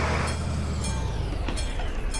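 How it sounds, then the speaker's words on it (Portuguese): A freight train rolls past in Euro Truck Simulator 2, a steady, loud rumble of wagons with a few brief squeals and clacks riding over a heavy low drone. "Esperar a boiada de trem passar"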